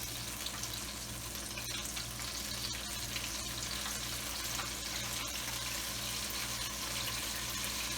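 Cream cheese wontons frying in roughly 2.5 to 3 cups of oil, a steady, close, continuous sizzle and crackle with a faint watery bubbling underneath, no voices.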